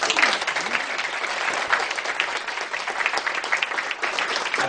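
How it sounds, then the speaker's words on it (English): An audience at a basketball coach's talk on recruiting gives a warm round of applause for a marketing staffer, steady dense clapping that carries on loud and unbroken throughout. "I'd like you to give him a nice round of applause."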